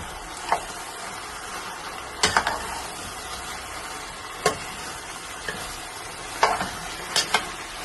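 Tapioca biryani stirred and mixed in a pan over a steady background sizzle, with sharp spoon scrapes and clinks recurring at irregular intervals.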